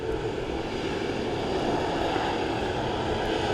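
A Ryanair Boeing 737 MAX at Dublin Airport gives off a steady, fairly loud jet engine roar that stays constant throughout, with no talking.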